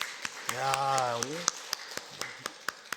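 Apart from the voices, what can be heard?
congregation clapping in church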